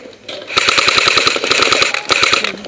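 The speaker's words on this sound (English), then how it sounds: "I'm gonna shoot over you, alright?" Airsoft gun firing rapid full-auto bursts during an airsoft match, close and loud, a steady clatter of shots with a brief pause before a final burst.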